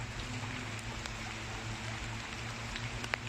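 Steady rain falls outdoors during flooding on an island community, a dense, even hiss with a low rumble underneath and a few sharper drop ticks, constant throughout with no voices.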